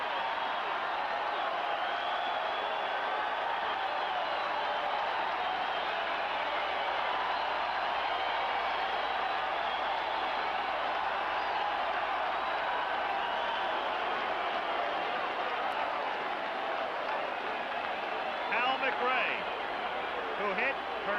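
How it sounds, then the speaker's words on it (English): A packed stadium crowd at a 1984 ALCS Game 3 baseball game roars steadily, a broad continuous din with the Tigers one out away, while a broadcaster talks over it. "And now the crowd is not to be quieted."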